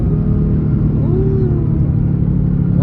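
A Ford Mustang GT with an X-pipe exhaust holds a loud, steady engine drone from inside the car, with a brief pitch sweep midway as it downshifts.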